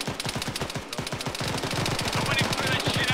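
Rapid bursts of automatic weapon fire crackle nonstop during a milsim field training exercise, dense overlapping reports from several shooters close by, building louder toward the end, with faint voices mixed underneath.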